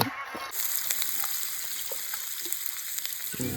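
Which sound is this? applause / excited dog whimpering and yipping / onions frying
onions frying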